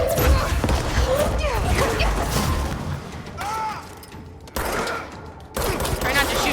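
Gunfire in Control, bursts of shots mixed with mechanical clanks and whooshing effects, broken by brief pauses, while someone talks over the action.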